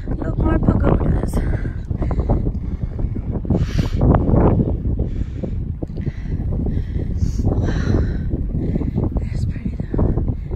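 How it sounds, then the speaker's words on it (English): Wind blowing steadily across a hillside stairway lined with pagodas, a continuous loud rushing through the whole stretch with footsteps and movement mixed in. "I'm glad there's a wind"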